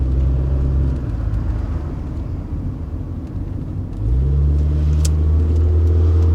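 A Honda Concerto or Rover R8 hatchback gives a steady low engine drone and faint whine while driving, dipping briefly mid-way before the note rises and holds again; no one speaks over it.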